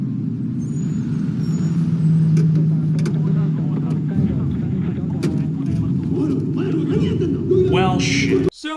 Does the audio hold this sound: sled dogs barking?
no